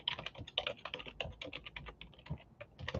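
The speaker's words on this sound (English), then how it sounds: "I hate when I thought I was typing the whole time" Rapid, uneven clicking and clacking of keys on a computer keyboard, close and fairly faint, with no voices.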